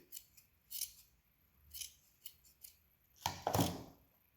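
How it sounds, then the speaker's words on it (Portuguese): Scissors trim fur behind the ear of a plush toy for an Easter chocolate holder: several quiet, close snips in uneven rhythm, ending in a louder, longer cutting burst. "Vou aparar os pelinhos de trás aqui da orelhinha também."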